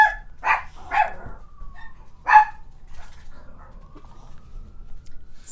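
Several dogs bark in a burst of sharp, high yips and barks indoors. Three or four loud clusters come over the first few seconds, then fainter whimpers over a low background hum.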